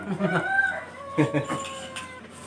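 Chickens at a rural home in Isan, Thailand, clucking in short bursts close by, with a steady hum behind them and people talking now and then.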